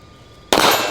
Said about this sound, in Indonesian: sekarang dia akan nembak velgnya nih